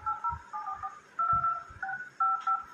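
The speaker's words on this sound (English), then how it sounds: "This dial pad tone" Dial pad tones on a Vivo Y15c phone: a string of about eight short electronic DTMF beeps in an uneven tapping rhythm, clear and close with soft finger taps under them and no talking.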